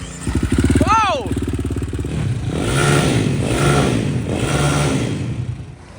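KTM 450-powered Amish buggy engine revving hard then stalling out, the throaty rasp climbing and cutting off, followed by a lower rumble while people talk over it.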